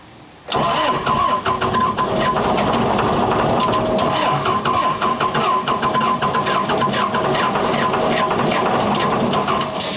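John Deere 4045T diesel engine cranking on a struggling starter, starting abruptly after a quiet moment and turning over loudly with rapid, uneven pulses for the rest of the stretch, close up.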